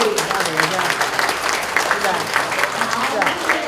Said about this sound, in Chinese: 请来宾掌声鼓励